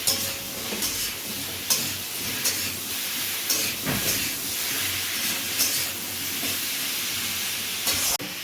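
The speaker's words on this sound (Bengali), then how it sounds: "এবার আলুগুলো দেওয়া হচ্ছে আলুগুলোকে একটু ভেজে নিতে হবে" Loud, steady sizzling of potatoes frying in oil, broken by repeated stirring scrapes and clinks spaced every second or so.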